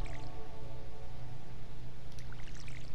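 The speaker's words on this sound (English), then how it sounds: "you need to water your crops daily so they don't die" Crops being watered with a watering can in the Stardew Valley farming game: a steady, close pouring and splashing sound with soft drips, continuous for about three seconds over a low background music hum.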